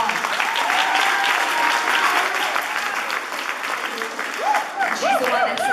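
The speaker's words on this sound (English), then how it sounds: "Let's give her a round of applause." An audience at a children's choir event gives a warm round of applause, dense clapping that softens midway while cheers and excited whoops rise over it toward the end.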